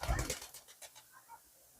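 Pigeons kept on a home balcony or rooftop coo softly in a short, quiet burst, a few low murmuring calls fading out.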